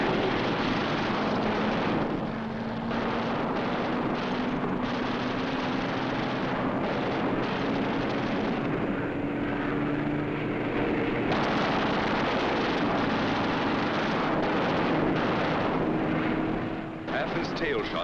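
A World War II B-17 bomber goes down in flames amid an air battle, heard as a continuous roar of aircraft engines with bursts of gunfire, under steady narration.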